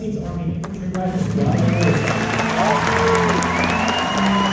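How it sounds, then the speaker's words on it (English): A crowd applauds at an outdoor US Army infantry graduation ceremony, clapping and scattered cheers building and holding steady over a low rumble of background noise. "please join us in a round of applause for the United States Army Infantry Rifle"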